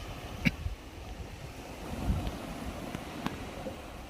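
Ocean waves used in a guided meditation, a steady, soft wash of surf and wind-like rumble with a few faint knocks, fairly even in level, with no voices over it.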